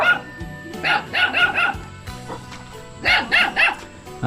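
A dog in a rural hill village barks in two quick bursts of sharp, repeated yaps, fairly near and loud, with short gaps of quieter outdoor background between the bursts.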